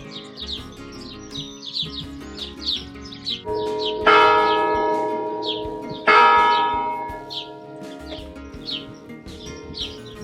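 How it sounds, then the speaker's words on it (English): Loud church bells of an old church on the Camino de Santiago between Pamplona and Puente la Reina ring out in two strong strikes that linger and decay, while birds chirp and tweet steadily around them. "Those were some loud church bells."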